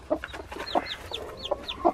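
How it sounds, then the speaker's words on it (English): A tiny, newly hatched chick gives repeated high, thin peeps in quick short bursts, close and fairly soft, with some low clucking mixed in. "tiniest chicken I've ever seen, and it is adorable"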